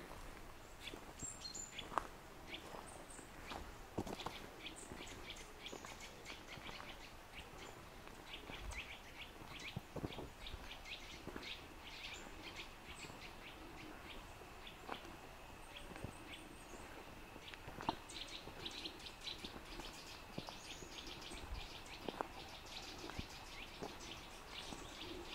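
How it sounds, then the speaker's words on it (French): Small birds chirp and sing along a forest path, scattered thin tweets and calls across a quiet outdoor backdrop, faint and distant, with no talk. "Les petits oiseaux, ils en mettent un rayon"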